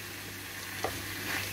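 Smoked sausages fry in a pan while being stirred, giving a soft continuous sizzle with a faint scrape partway through, quiet and close.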